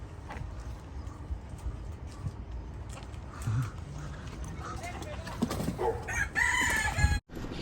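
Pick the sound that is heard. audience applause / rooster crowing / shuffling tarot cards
rooster crowing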